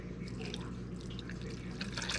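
Warm water trickling and splashing into a cooking pot full of potatoes and other ingredients, a quiet continuous pour with faint drips throughout.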